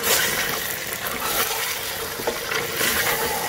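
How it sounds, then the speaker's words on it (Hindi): Meat frying for haleem in a pan, a steady broad sizzle running continuously and fairly close throughout, with slight swells and a couple of small stirring knocks, no talking. "अब मैं इसको अच्छी तरह फ्राई करूंगी मीट के साथ।"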